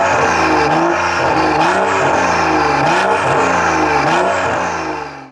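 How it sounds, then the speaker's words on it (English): A BMW N55 inline-six's exhaust note rises and falls through several close, loud revs in a steady rhythm, a raspy, throaty tone that swells and dips, with no voices. "I think the N55 sounds absolutely incredible with just the pure exhaust tone"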